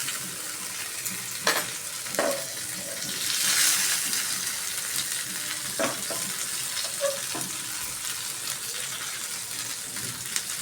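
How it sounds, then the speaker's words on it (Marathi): A whole pomfret fries on a flat iron tawa with a steady, hissing sizzle and occasional sharp pops and spatters, heard close and alone without talk. "आता दुसऱ्या साईडून एक 5 मिनटं आपण छान असं फ्राय करून घेऊया।"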